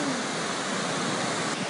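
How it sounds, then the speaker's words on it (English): Floodwater rushes through Toowoomba streets during the January 2011 Queensland flood, a loud, steady, unbroken roar of torrential water with no voices. "That is a lot of water."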